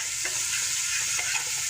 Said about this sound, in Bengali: এখন মশলাটা ভালো মতন কষাই নেব।